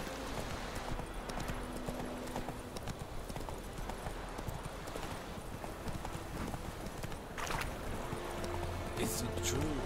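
Horse hooves clip-clop steadily through a Witcher 3 game scene, a continuous rhythmic clatter of moderate loudness set among ambient game sound, with voices speaking at times over it.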